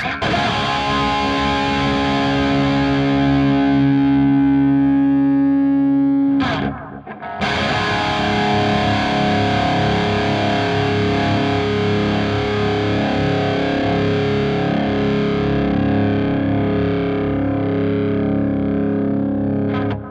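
A distorted high-gain electric guitar note through a Line 6 Helix rings out long and steady, briefly cut once, then sustains again with a thick, buzzing tone and slow fade.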